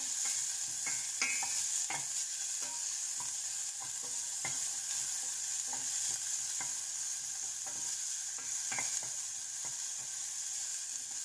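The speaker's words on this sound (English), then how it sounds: "Just stir it." Onions frying in a modest amount of oil in a pan, with a steady sizzle throughout and scattered clicks and scrapes of stirring, no voices.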